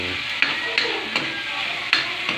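Ingredients are sautéed in a pan, making a steady sizzle broken by several sharp scrapes and knocks of a utensil stirring at irregular intervals.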